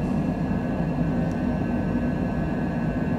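A Cessna Citation Longitude jet climbs just after takeoff from Vail, Colorado, a steady, loud cockpit roar of engines and airflow with a low rumble and a constant whine, no voices over it.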